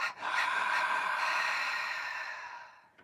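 One long, deep exhale during breathing meditation, a close, breathy rush of air that swells quickly, holds steady and slowly fades out over about three seconds, alone with no talk.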